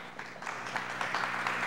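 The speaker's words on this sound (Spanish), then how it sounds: "Unos aplausos mucho más fuertes se merecen estos muchachos" An audience in a magic-themed cooking show applauds the magicians Juliño and George with steady, fairly faint clapping that continues for the whole short moment.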